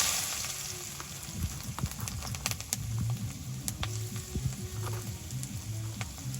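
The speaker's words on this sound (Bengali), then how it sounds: "এখন হচ্ছে যে তেলগুলো হয়ে গেছে, এখন দিয়ে দিব আলুগুলো।" Potatoes frying in hot oil in a village kitchen give a steady close sizzle, with scattered clicks and taps of stirring running through it and no speech.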